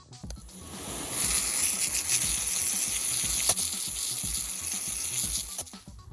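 Water rinses over a freshly dug-up, shiny mica rock, making a steady broadband splashing hiss that rises after a soft start and runs continuously for several seconds with no voices.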